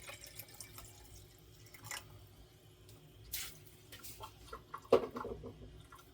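Room-temperature water trickles and drips into a container of water kefir, soft and close, with a few brighter splashes and one sharper drop near the end, no voices.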